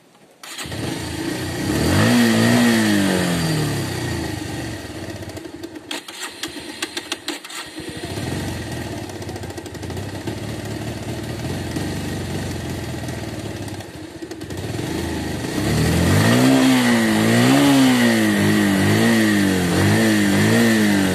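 A motorbike on an off-road ride to Kokochang waterfall, its engine sputtering with water-contaminated fuel, revs up and down repeatedly, cutting out briefly then roaring back with rising and falling pitch, loud and close.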